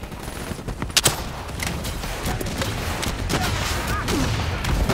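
Grenade launcher fire and surrounding gunfire in Call of Duty: Black Ops 3, a dense run of loud, sharp bursts and thuds with little pause.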